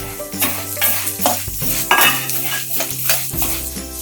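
Urad dal roasting in a pan for idli podi, with stirring and rhythmic scraping of a utensil against the pan and a faint sizzle and rattle of the lentils throughout.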